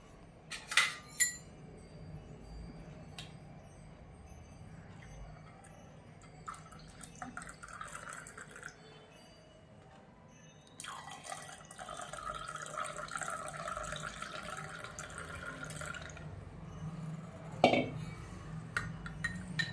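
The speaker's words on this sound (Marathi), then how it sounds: "आता यामध्ये दूध पण गार झालेलं आहे ते आपण त्यामध्ये टाकूया" Cooled milk pours into a pot of garden cress seed kheer in a steady splashing stream lasting several seconds, after a few light clinks of utensils and dishes in a quiet kitchen.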